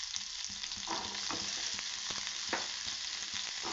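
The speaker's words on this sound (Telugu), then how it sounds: "ఒక బౌల్లో ఆయిల్ హీట్ చేసి అందులో ఆనియన్స్, పచ్చిమిర్చి వేసి అవి వేగిన తర్వాత మనం ముందుగా నానబెట్టుకున్న శనగల్ని వేయాలి." Onions, green chillies and soaked chickpeas fry in hot oil with a dense, continuous sizzle, close and steady, broken by scrapes and taps of a stirring spoon, with no voices.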